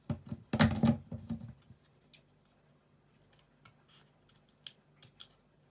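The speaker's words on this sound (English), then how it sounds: "And I'm going to cut one more" Scissors cut through card, a loud burst of close snipping at first, then sparse quieter snips and small handling taps, no talking.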